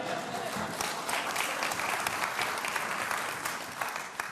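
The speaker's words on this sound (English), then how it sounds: "that's the people who live in Neilston applauding" Audience of local residents applauding at the Scottish Labour campaign launch in Neilston, Scotland, a steady, dense wash of clapping from a crowd that holds throughout without any speech.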